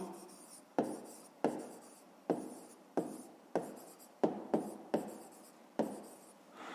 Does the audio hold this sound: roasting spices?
no